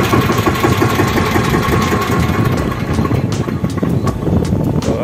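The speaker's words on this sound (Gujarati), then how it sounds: "હવે આનો આપણે આ ટ્રેક્ટરનો અવાજ પણ જોઈએ" A Field Marshal 16 hp mini tractor engine idles steadily and loudly throughout, with a low mechanical rumble and light rattling vibration, no voices.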